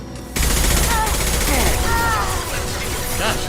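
Sustained gunfire in the video game Mass Effect 2, a dense, loud continuous barrage starting abruptly, with whistling, chirping effects layered over it and a voice speaking underneath.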